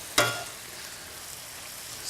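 Food sautéing in a hot pan gives a steady, close broadband sizzle that runs throughout, with one sharp clatter of a utensil or pan just after the start.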